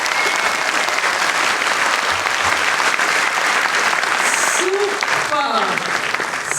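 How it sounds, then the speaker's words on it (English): An audience claps for children at a live event, producing loud, dense, sustained applause throughout, with a voice briefly heard over it near the end. "show me how loud you can clap for the children so that they can hear you behind"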